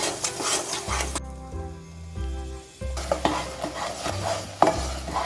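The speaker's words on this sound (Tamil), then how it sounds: "போட்டுட்டு நல்லா வதக்கணும்." Ground dates are stirred in a pan, with scraping strokes and a soft sizzle. A low tonal hum cuts out for a moment partway through, and no one speaks.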